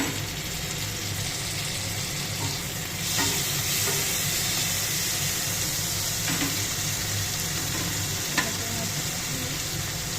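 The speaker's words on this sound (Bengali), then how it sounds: "এবার আমি দিয়ে দেবো টমেটো কুচি" Onions browned in oil, with chopped tomatoes just added to the pan, sizzle steadily up close, mixed with stirring and scraping sounds and no voices.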